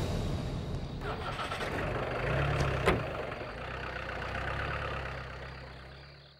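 A car engine turns over and catches, then settles into a low, steady idle, with a sharp knock or door thud in the middle and people talking over it.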